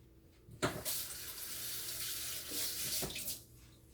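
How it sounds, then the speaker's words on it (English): A kitchen sink tap running while hands are washed before cooking pork chops: a steady, fairly quiet gush of water with splashy shifts as hands move under the stream, no speech. "Let me wash my hands right quick"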